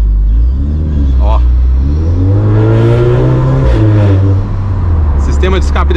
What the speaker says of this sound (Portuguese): o sistema de escape desse carro ficou muito legal, galera